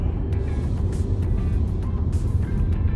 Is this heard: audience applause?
no